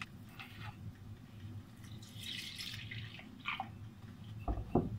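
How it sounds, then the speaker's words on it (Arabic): Milk is poured into dry dessert ingredients in a mixing bowl, making a quiet trickle with soft drips and small splashes close by. "اخلط المواد الجافة سوية قبل ما اضيف الحليب"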